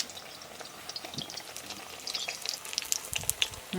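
Eggplant (brinjal) slices fry in hot oil in a home kitchen, giving a steady crackling sizzle with scattered pops and a few soft utensil knocks near the end.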